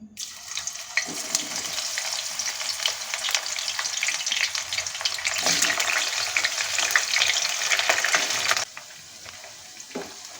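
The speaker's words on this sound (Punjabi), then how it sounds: "ਤੇਲ ਆਪਣਾ ਗਰਮ ਹੋ ਗਿਆ ਤੇ ਹੁਣ ਆਪਾਂ ਇਹਦੇ ਵਿੱਚ ਅੱਧੀ ਕਠਲ ਪਾ ਕੇ ਇਹਨੂੰ ਫਰਾਈ ਕਰਾਂਗੇ" Halved pieces of jackfruit fry in hot mustard oil, giving a loud, steady sizzle and crackle that runs continuously, with occasional stirring scrapes, then drops suddenly to a quieter bubbling near the end.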